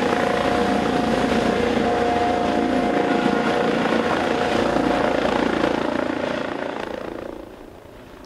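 An EC-155 police helicopter flies over a police open day in Dortmund, its steady rotor and engine roar loud and continuous before it fades away near the end.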